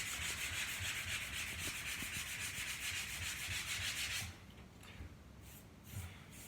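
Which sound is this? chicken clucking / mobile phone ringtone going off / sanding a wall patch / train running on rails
sanding a wall patch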